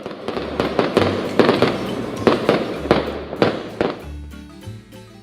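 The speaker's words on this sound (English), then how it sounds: "Then that night, fireworks." Fireworks in Costa Rica crackle and pop in rapid bursts, a dozen or so sharp bangs in a busy rhythm, fairly close, fading toward the end.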